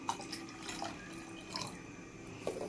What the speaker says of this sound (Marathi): अजून थोडंसं पाणी घालायचं याच्यामध्ये